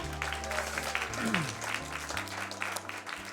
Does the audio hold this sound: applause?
yes